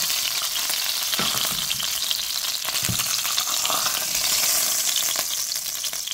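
Beef and vegetables sear in a pan over high heat, giving a steady, loud, close sizzle with a few stirring scrapes throughout.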